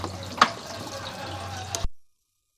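Water flowing over a sewer inspection camera lens to rinse it inside a pipe, a steady close wash of liquid for about two seconds with a couple of brief splashy bursts, then stopping abruptly into silence.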